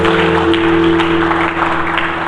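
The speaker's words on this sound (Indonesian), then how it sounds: "mari kita berikan tepuk tangan yang meriah bagi dia." A church congregation claps steadily during a Sunday service, a broad continuous patter of hands over sustained keyboard-like tones and a low hum.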